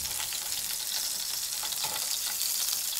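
Fatty beef slices frying in a pan, a constant close sizzle with a bright hiss and crackle, with faint scraping or stirring noises underneath and no speech.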